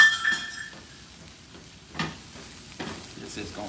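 Crab meat, fish and parsley being stirred in a hot pan, with a few soft scraping stirs and a faint sizzle over a low background, plus brief clinks near the start.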